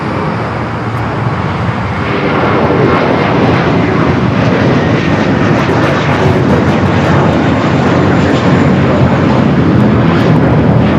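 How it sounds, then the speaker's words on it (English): A JetBlue jet rolls down runway 25 Right at LAX, its engines roaring loud and steady for the whole stretch, with no voices over the noise. "Got that JetBlue flight now rolling down at 25 right"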